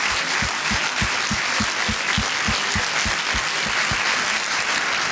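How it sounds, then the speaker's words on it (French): Loud, dense applause from an audience at a Palace special event honouring Les Snuls, steady throughout with rhythmic stomping or clapping thumps beating underneath. "je pense qu'on peut les applaudir très fort."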